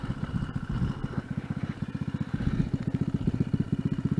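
A homemade Mk4-Stroke motorized bike, falling apart with loose bolts, runs close by with a rapid, even engine chug and clattering rattles.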